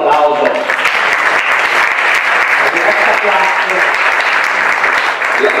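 Sustained applause fills the hall at an environmental innovation award ceremony, loud and steady throughout, with a faint voice beneath the clapping.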